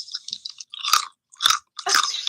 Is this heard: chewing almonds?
yes